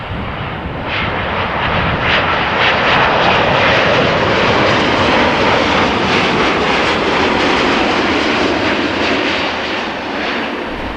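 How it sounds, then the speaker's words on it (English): An Air Canada Boeing Dreamliner jet airliner at Amsterdam Schiphol Airport gives a loud, sustained engine roar that stays broad and steady throughout, with no talk. "Dreamliner."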